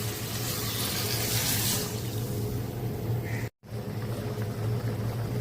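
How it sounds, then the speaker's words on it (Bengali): Water poured into a pan of bele fish cooking in spiced masala, a loud rushing splash and hiss at first that settles into a steady simmering sizzle, with a brief gap partway through. "এখন পানি দিয়ে দেব।"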